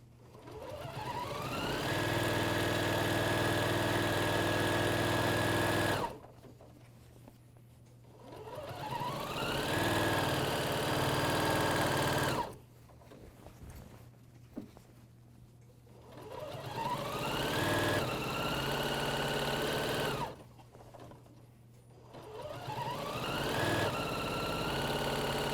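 An AirThread 2000D Professional Serger runs along a bathrobe seam in four separate bursts, each ramping up to a steady whir and cutting off into short pauses, close and clear with no talking.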